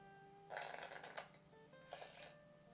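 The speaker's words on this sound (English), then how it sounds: "Take a shuffle." A deck of cards being riffle-shuffled twice, crisp fluttering bursts with a short pause between, close and fairly quiet.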